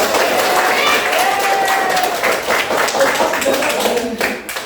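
A classroom of students claps together, a fairly loud, dense burst of applause with some cheering voices mixed in, fading toward the end.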